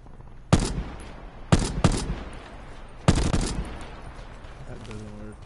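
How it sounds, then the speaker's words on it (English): Several bursts of video game gunfire: three sharp, loud volleys spaced over a few seconds, each decaying quickly, with faint game sounds between them. "Why are we shooting so far away?"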